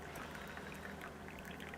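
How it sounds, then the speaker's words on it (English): Coffee poured into a cup, heard as a faint, steady hiss of liquid running without a break under a constant background rush, with no speech. "I'm pouring a coffee."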